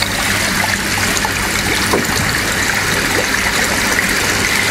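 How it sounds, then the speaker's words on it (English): Air stone bubbling through garden pond water, a steady dense fizzing and trickling wash that stays even and continuous throughout. "as the bubbles move through the pond water, it will add oxygen"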